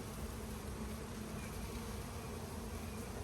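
Honeybees at an open hive during a brood inspection make a dense, continuous buzz that fills the space, a close and steady drone with no talk over it.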